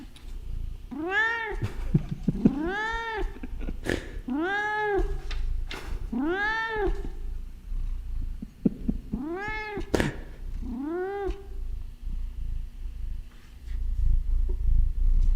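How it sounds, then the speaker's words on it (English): A cat meows six times, loud and drawn out, first in a run of four and then a pair, over a low background rumble. "Hear him purring out there, ladies and gentlemen?"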